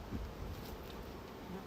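Honey bees buzz in a steady, close drone throughout an open hive inspection, a continuous insect hum with light rustling and no talking.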